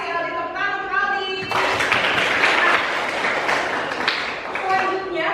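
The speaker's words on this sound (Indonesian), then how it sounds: "Tepuk tangan untuk Aldi." Classmates clap for a student in a classroom, a burst of dense applause starting after a teacher's voice and holding steady for several seconds before fading as talk returns.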